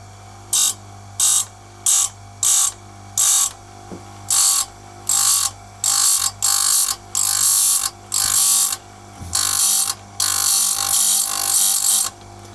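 A chain sharpening machine grinding a saw chain with its grinding disc set at a 30-degree angle, loud close bursts of high grinding repeating in a steady rhythm about once a second over a low motor hum, with no speech.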